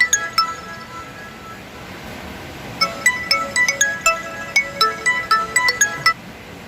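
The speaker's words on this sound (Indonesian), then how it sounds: "ada telepon lagi nih. Ada telepon" A phone plays a chiming ringtone of bright, clinking notes, faint at first and then a steady repeating melody for several seconds over low room noise.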